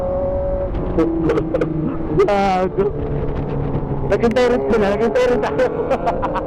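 Sportbike engines, including a Kawasaki ZX10RR, a Honda CBR1000RR-SP2 and a Ducati Panigale V4-S, rev and whine loudly in stop-and-go traffic, with rising and falling engine pitches and brief sharp blips while riders talk over them.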